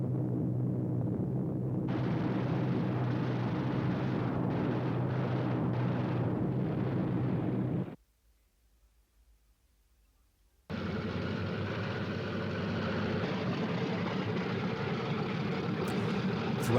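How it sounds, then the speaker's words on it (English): Twin piston engines of a P-38 Lightning fighter droning steadily and fairly loud, broken by a few seconds of silence before the engine roar returns. "The peculiar sound of the P-38's twin engines became both familiar and hated by the Japanese all across the South Pacific."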